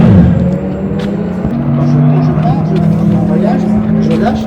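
A Ferrari race car on a circuit roars past with a loud, sustained engine note that rises and shifts in pitch, close and dominant, with a voice talking over it.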